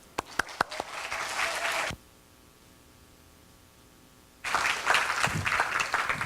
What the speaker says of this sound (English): let's invite her with a warm applause